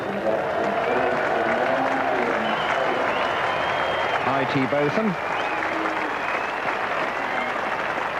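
A cricket crowd at a 1986 England v New Zealand Test applauds steadily as Ian Botham comes on to bowl, sustained clapping filling the ground while a commentator speaks over it.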